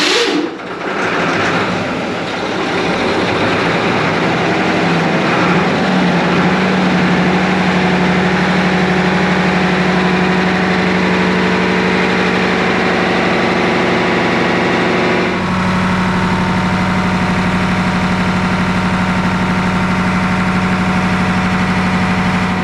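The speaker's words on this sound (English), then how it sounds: "These are the generators. Yeah. 6-cylinder generators." Six-cylinder DC generators running aboard the ex-RMAS Cairn, a Dog Class tug, give a loud, steady engine drone with a strong low hum, continuous throughout and shifting slightly in tone partway through, with no talk.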